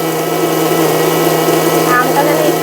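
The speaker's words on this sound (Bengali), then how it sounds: "এখন মিক্সিতে ব্লেন্ড করে নেব। ভালো করে 2 মিনিটের মতো ব্লেন্ড করে নেব।" A kitchen mixer grinder blends mango for homemade ice cream, giving a steady, loud, high-pitched whir that runs on without a break.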